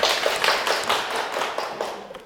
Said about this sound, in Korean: 네, 박수 한번.